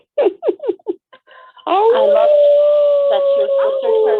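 People on a TV comedy episode howling together: a few quick yelping bursts after a line of talk, then a sustained wavering howl from several voices imitating dogs or wolves, close and loud.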